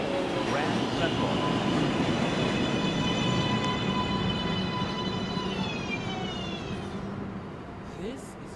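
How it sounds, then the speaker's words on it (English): A Manhattan-bound NYC subway 1 train at Lincoln Center station gives a loud, close, steady electric motor whine with layered rising tones over rumbling wheels, fading slightly near the end, while an automated announcement voice speaks. "This is a Manhattan-bound 1 train."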